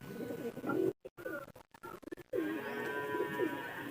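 A pigeon cooing up close, with soft throaty coos at the start, a broken stretch of brief dropouts in the middle, then a longer run of rolling coos to the end.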